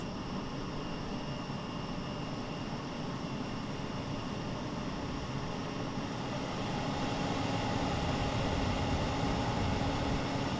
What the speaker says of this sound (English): The APU roars to life.